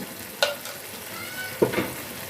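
Prawns with sliced green chilies frying in a pan, a soft steady sizzle broken by two brief scraping stirs, quiet and close with no voices.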